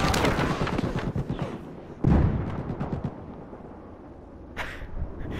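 Tank being blown up in Battlefield 4 video game, rumbling gunfire and booming blasts with a heavy explosion about two seconds in, followed by fading rumble and another sharp burst near the end.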